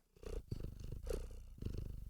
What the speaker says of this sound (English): Here is a cat.